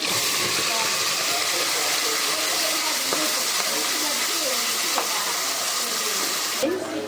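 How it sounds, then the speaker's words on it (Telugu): Spices and ingredients frying in a pressure cooker for chicken curry, a steady hissing sizzle that runs loud and unbroken throughout, with a couple of faint clinks. "ఇప్పుడు మనం ఈ ఈ వస్తువులన్నీ వేసి కుక్కర్లో బాగా వేయించుకుంటున్నామండి"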